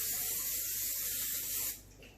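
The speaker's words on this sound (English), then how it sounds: "I'm gonna lightly spray the pan." Cooking spray misted onto a pan in one steady, close, loud hiss lasting under two seconds before cutting off into quiet room tone.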